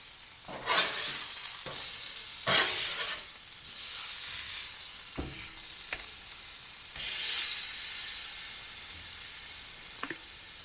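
Venison smash burgers frying on a Blackstone griddle, a soft continuous sizzle broken by several bursts of louder hissing and scraping clicks as the patties are flipped with a spatula.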